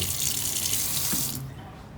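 Tap water runs steadily into a sink as a hose is filled for aquarium care, a broad hissing splash that cuts off sharply near the end, leaving a quieter room.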